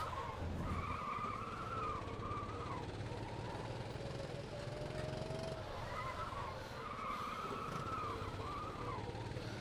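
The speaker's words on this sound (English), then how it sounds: "you can just hear how that kart engine bogs down" Kart engine in the Automobilista racing game bogging down, a droning buzz whose pitch sags and climbs again, with tyre squeal and continuous mechanical noise at moderate level.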